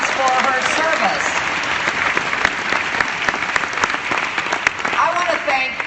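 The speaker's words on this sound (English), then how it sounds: "let's give Janet Murguia another round of applause for her service." A large audience at an NCLR convention gives loud, sustained applause, a dense roar of clapping with some cheering that continues steadily throughout.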